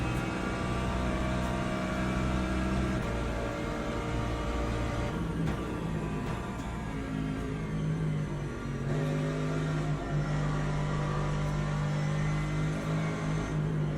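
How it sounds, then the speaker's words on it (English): Race cars in a Le Mans racing video game roar at speed with a steady, loud engine drone and rumbling tire noise that runs unbroken throughout, no speech. "Hear the tires protesting."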